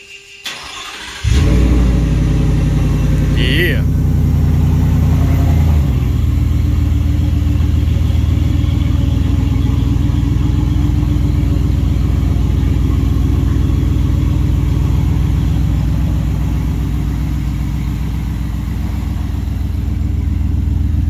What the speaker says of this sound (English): We'll open it up and fire her up.